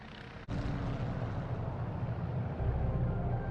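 An airplane in flight in a dramatised TV scene fills the background with a steady, low engine drone that stays loud and constant, with a brief break near the start.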